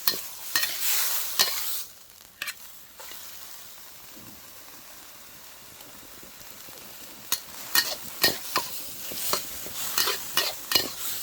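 Pork being stir-fried with chili and salt in a pan: a bright burst of sizzle and scraping at the start, a quieter stretch of low frying, then a run of sharp, repeated utensil scrapes and clacks toward the end, with no talk.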